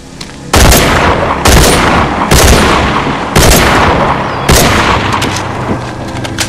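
Gunfire in The Walking Dead: Survival Instinct video game, with five loud, sharp shots spaced about a second apart, each ringing out briefly before the next.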